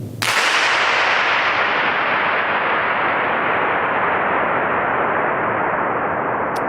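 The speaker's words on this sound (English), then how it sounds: "that is the sound of shooting off a starter pistol in these super gigantic abandoned oil tanks" A starter pistol fired inside huge abandoned oil tanks gives one sharp crack followed by a long, loud, washing reverberation that fills the space and only slowly fades over several seconds.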